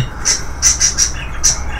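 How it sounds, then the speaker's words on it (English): A pet bird squawks in short, sharp, high calls, about five bursts in under two seconds, close and loud indoors with no talking. "my bird was asleep when I started this"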